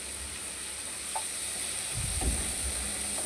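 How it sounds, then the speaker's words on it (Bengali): Cut potatoes and flat beans go into hot oil left from frying fish, setting off a soft, steady sizzle and hiss that swells around the two-second mark as they land, close by with no talking. "মাছগুলো তুলে নিয়ে ওই মাছ ভাজার তেলেই আমি দিয়ে দিচ্ছি ছোটো ছোটো পিস করে কেটে রাখা আলু আর সিম"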